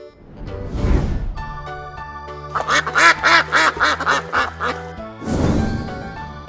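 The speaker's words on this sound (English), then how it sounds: "Duck." A duck quacks in a rapid run of short, nasal calls close up, framed by louder swells of sound at the start and end over soft background music.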